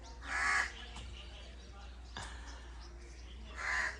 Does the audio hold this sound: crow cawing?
yes